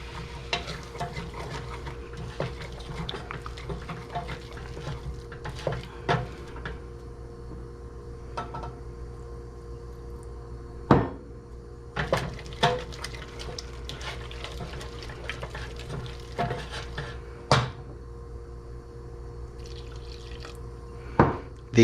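Bottled shrimp stock poured slowly into a chowder pot of flour base on high heat, a soft steady liquid trickle with occasional drips and clinks, close and quiet, with no talk.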